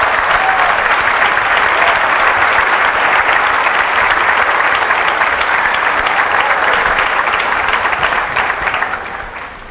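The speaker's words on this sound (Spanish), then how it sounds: "Recibamos con un fuerte aplauso." Sustained applause from a large audience at an indoor talk on gender ideology, loud and dense throughout, fading slightly at the end, with no speech over it.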